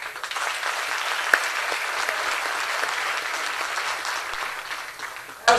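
Concert audience at a Turkish classical music choir performance in the Netherlands applauding, a dense sustained roar of many hands clapping, loud and close, ending with a sharp louder burst.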